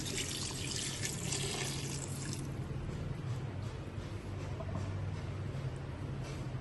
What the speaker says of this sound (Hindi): 3 गिलास के करीब पानी, ये शामिल कर देंगे।